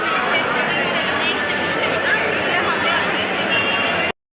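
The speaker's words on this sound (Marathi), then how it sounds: "जाम गर्दी आहे" Dense crowd chatter fills a Ganpati temple sanctum on Diwali, many overlapping voices forming a steady, loud murmur throughout with no single speaker standing out.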